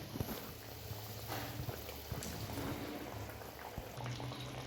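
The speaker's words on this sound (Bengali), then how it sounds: "ঝোল ফুটে গেছে এবার মাছগুলো আমি দিয়ে দিলাম" Fish curry gravy for a Bengali bata fish jhal bubbling at a boil in a pan, a soft continuous burble with small pops, close but fairly quiet and without speech.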